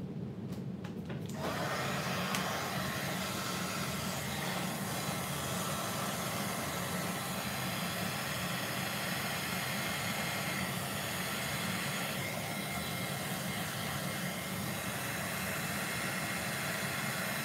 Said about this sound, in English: I'm gonna turn my heat gun on, or heat tool on, so it's gonna be a little noisy